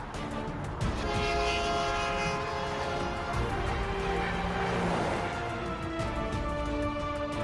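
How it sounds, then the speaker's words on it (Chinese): A brand-new high-speed train undergoes final factory testing before delivery, its horn sounding in sustained loud tonal blasts over rumbling rail noise and faint wheel clatter, close by and without speech. "又一列崭新的高铁列车完成组装，接受出厂前最后测试"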